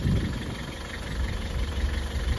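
A car engine idles while the car reverses during alley docking practice, a steady low rumble with slight unevenness, close and continuous, with no voices.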